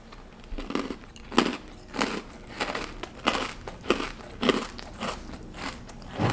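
Freeze-dried candy is crunched in a series of loud, close, crisp bites, roughly eight to ten in a row, each a sharp crackling crunch followed by short pauses, with no talking.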